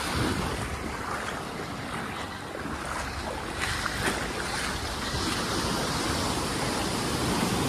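A tour boat out on the open sea off El Nido in the Philippines, with steady broadband wash of waves and wind rushing across the microphone, continuous and fairly loud throughout, no voices.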